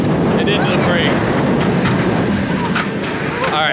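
A SeaWorld Orlando roller coaster train rolls hard into the brake run, a loud, steady roar of wheels and rushing wind with riders cheering and shouting over it throughout.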